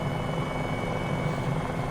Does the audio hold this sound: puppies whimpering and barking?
no